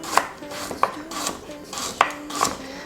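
A knife chops carrots for lentil soup on a cutting board, several crisp knocks in an uneven rhythm, close and fairly quiet, with no talking.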